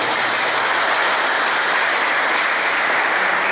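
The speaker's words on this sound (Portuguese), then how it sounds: "merece un fuerte, fuerte aplauso también" A crowd at a retirement celebration for pensioners claps loudly and continuously in a dense, even wash of applause.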